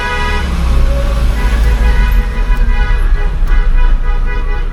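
An impatient truck honks on a mountain road, short repeated toots over a loud, close rumble of engine and road noise, with no talk.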